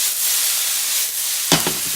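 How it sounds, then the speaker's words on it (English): Butter sizzling in a hot pan while deer heart is stir fried, a steady close hiss with a couple of brief stirring scrapes near the end, no talking. "we're going to stir fry that a little bit"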